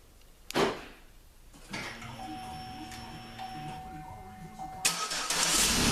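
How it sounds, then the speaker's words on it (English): A Pontiac Torrent starts by remote start: a couple of clicks and a quiet tone, then the engine cranks and catches at the end with a loud, sudden roar of idle. "The main feature, remote start."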